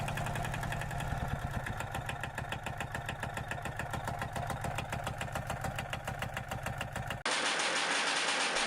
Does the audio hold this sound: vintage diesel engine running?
yes